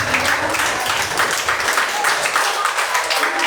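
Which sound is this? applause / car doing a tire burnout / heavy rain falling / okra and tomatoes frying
applause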